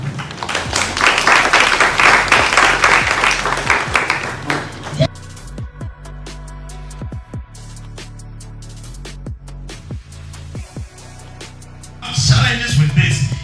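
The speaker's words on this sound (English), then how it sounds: "Can we give them a hand of applause?" Applause from an audience at a live special-coverage event, a loud burst of clapping for about five seconds, then quieter sparse sounds, with another short swell of clapping near the end.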